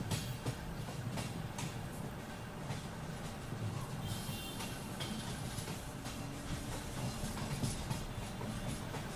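A Borivali–Churchgate slow local train passes Goregaon station, with a steady rumble of wagons and repeated clickety-clack wheel beats carrying through the whole stretch, loud and close, with no one speaking.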